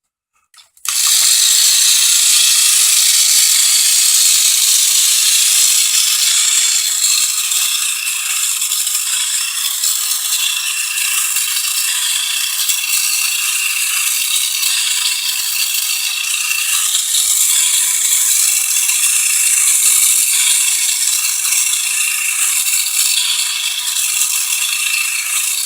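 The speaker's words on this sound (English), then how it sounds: "The 2 inside cams rock the body back and forth." A remote-controlled Silent Running drone robot with a rocking body, driven by two internal cams off a Tamiya gearbox, clatters with a loud, steady mechanical rattle that starts abruptly and runs on without pause.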